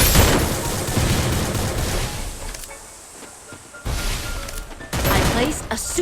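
Loud Counter-Strike ranked-match gunfire, dense bursts of shots and booms filling the clip, easing briefly in the middle before surging again.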